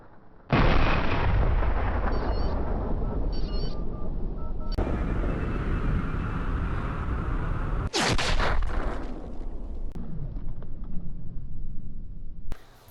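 Rifle fire in the hunting video game Cabela's Big Game Hunter, stalking a legendary mule deer buck: loud, sustained booming with sharp cracks near the middle and end, and no voices.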